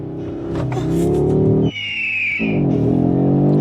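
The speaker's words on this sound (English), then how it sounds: "I'm doing launch control. It should be fast, right?" A 2024 Audi RS 3 launching hard under launch control, its engine note climbing steadily in pitch before a short break at a gear change, then pulling and rising again, loud and close from inside the cabin.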